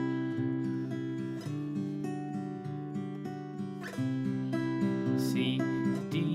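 Guitar strums and lets ring a sequence of chords including C, the notes sounding clear and close, with fresh strums every second or so and no talking.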